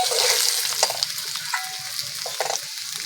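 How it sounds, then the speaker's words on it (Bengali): Potatoes fry in hot oil with a touch of turmeric, a close crackling sizzle punctuated by sharp spatula scrapes and pops, fairly loud at first and then settling a little. "আলুটাকে ভালো করে ভেজে নেব।"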